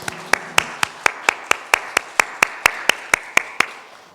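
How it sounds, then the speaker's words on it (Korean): A church congregation clapping in unison after the benediction at a Sunday worship service, about fifteen sharp, evenly spaced claps in a steady rhythm, fairly close. "하나님께 영광 박수 올려드리겠습니다."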